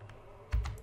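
A single Enter key press on a computer keyboard, one short, close thump with a quick click, after a moment of quiet.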